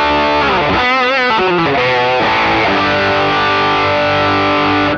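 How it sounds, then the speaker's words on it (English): Loud, heavily overdriven electric guitar with bending, wavering notes settling into a sustained distorted chord that rings on alone, played through a Fender Deluxe Reverb amp with a Super Overdrive pedal in front. "a Deluxe Reverb with the old Super Overdrive in front of it"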